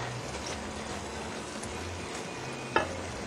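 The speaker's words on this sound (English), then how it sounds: "Just another stir." Food frying in a pan during lasagna preparation, with a low steady sizzle under kitchen ambience and a single short scrape or clack from a stir near the end; no talking.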